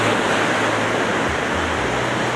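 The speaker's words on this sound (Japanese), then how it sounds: "目の前が海です。" Ocean surf at a beach in front of a resort hotel in Kamogawa, Boso, on an overcast day: a continuous, loud, close wash of breaking waves with low wind rumble and no voices.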